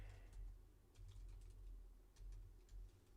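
Keys tapped on a computer keyboard in short, quiet bursts of clicks, a few brief runs separated by pauses, with a low background hum and no talking.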